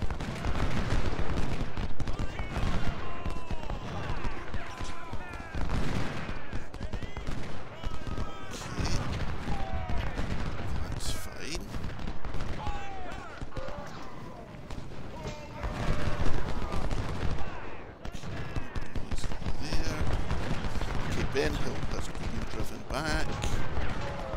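Civil War battle in the strategy game Ultimate General: Civil War, with constant massed musket volleys and crackling rifle fire, booming artillery and distant roars running loud through the whole stretch while someone talks over it.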